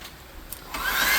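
A hair dryer blows over a fresh matte clear coat on a handmade cleaver, starting as a soft hiss and swelling into a steady, louder whir for the last half second, with no talk.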